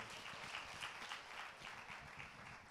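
An audience gives loud, sustained, dense applause at a celebration event, with many hands clapping together at an even level.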